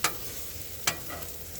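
Onions and mushrooms caramelize on a Blackstone griddle with a soft, steady sizzle, broken by two sharp scraping stirs of a spatula against the flat top.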